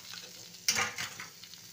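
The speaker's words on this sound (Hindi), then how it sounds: "तो अब इनको अच्छे से और तेल में फ्राई करेंगे मिर्ची के साथ" Bitter gourd and chillies fry in hot oil, a quiet steady sizzle that suddenly flares into a louder hiss as they are stirred, then settles back to a soft crackle with no talking.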